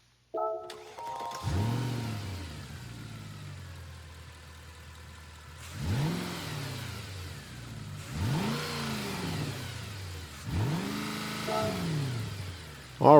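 A 2010 Mercedes-Benz SLS AMG in Gran Turismo 7 starts up with a starter whir, then the engine catches and settles to idle, followed by three sharp throttle blips that rise and fall at even intervals, loud and close.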